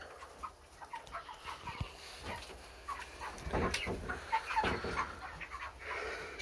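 Young backyard hens clucking and chirping softly at close range, with scattered short calls and rustling movement.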